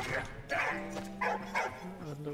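A dog barks and yips in the World War I video game Valiant Hearts, several short bow-wow calls scattered across the moment while a person talks over them.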